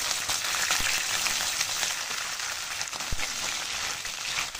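Cumin, mustard seeds and chana dal sizzle in hot oil, a steady crackling fry with occasional sharper pops, fairly quiet and alone.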